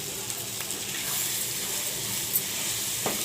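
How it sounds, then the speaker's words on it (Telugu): Chili powder is stirred into egg and tomato curry frying in oil, giving a steady sizzle with occasional scraping stirs close by and no talk. "దీంట్లో 3 టేబుల్ స్పూన్ కారం వేస్తున్నాను. ఇది మొత్తం బాగా కలిపుకుందాం."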